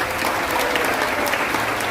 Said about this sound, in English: Please, a big round of applause for all of our veterans, ladies and gentlemen